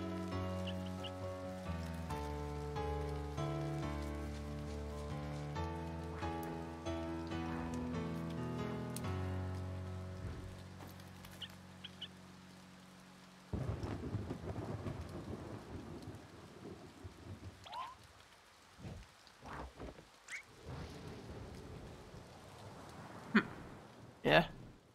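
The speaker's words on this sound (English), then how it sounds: "Now it's raining." In the video game A Bird Story, a melodic musical passage gives way to a rainstorm with steady falling rain and several sharp cracks and rumbles of thunder, the loudest near the end.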